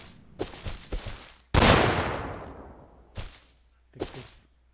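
A grenade detonates against a wall in Rust, a single loud blast with a long decaying rumble, preceded and followed by several sharp shorter bangs.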